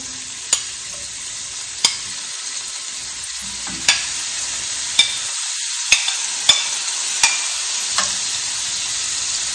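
Food frying in a pan gives a soft continuous sizzle, broken by a series of sharp, evenly spaced clicks or taps roughly every second, close and without speech.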